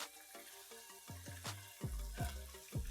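Coconut milk, spinach and kale being stirred in a pot over medium-low heat, with soft repeated scraping and sloshing strokes and a gentle simmering sizzle underneath, close and fairly quiet, no talking.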